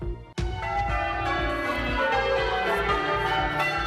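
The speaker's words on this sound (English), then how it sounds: "The Cathedral's bells are 100 today, and they're looking for a new peal." Manchester Cathedral's bells ringing a continuous peal, overlapping strikes clanging loudly and resonantly after a short opening clip of sound, with no talking.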